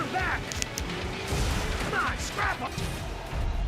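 Generic weapon blasts from the Transformers Devastation hack-and-slash game: a dense stretch of booming gunfire and impacts with zapping effects, fairly loud and continuous, mixed with game noise.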